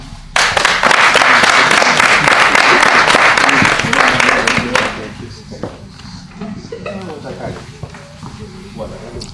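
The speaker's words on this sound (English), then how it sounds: "So a round of applause for Swayze." Loud, dense applause from an audience at a 2013 ACU launch event after a speech, a sustained roar of clapping that fades away by the midpoint, leaving quieter room noise and scattered movement.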